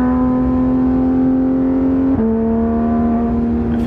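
A Porsche 991.2 GT3 RS engine drones loud and close under steady acceleration, one continuous high-revving tone that dips briefly at a gear change and then climbs again.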